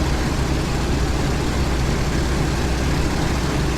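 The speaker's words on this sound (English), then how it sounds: "So we'll throttle back our engine power." A T-28 aircraft's piston engine throttled back in flight, a steady, even drone with broad rumbling noise that stays constant and fairly loud, with no talking over it.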